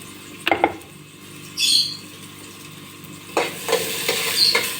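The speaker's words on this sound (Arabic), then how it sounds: "هنا انا حطيت البصل هحط بقى حتة السمنة بتاعتي او الزبدة اهي" Onions frying in ghee or butter make a quiet sizzle, with a few clattering utensil knocks early, a brief high squeak near two seconds, and a louder burst of sizzling and stirring toward the end, no talk.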